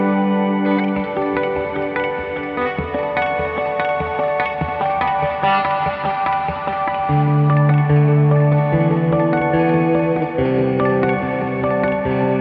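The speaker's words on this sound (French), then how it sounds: "va nous permettre d'avoir comme ça une réverb qui est en plus harmonisée" Electric guitar played through a harmonized reverb pedal on a pedalboard, sustained chords and notes swelling into a lush, shimmering wash with pitched echoes, loud and close with no talk.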